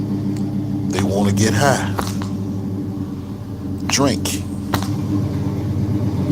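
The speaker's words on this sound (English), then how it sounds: "You probably hear the car running." A car engine idles outdoors with a steady low rumble running beneath a voice, which keeps talking over it throughout.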